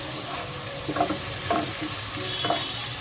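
Turmeric and chicken masala powder stirred as they fry in oil in a pan, a steady close sizzle with a few scraping strokes of the spoon at irregular intervals.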